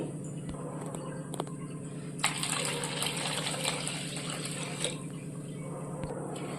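Water pouring and splashing into a bowl for a tamarind brinjal dish, a soft steady gush over a low background hum, swelling briefly in the middle.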